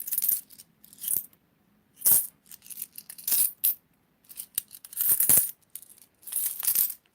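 A handful of coins, thirteen in all, are handled and dropped in a series of sharp metallic jingles and clatters, bursts separated by short quiet gaps, close and clear with no talk.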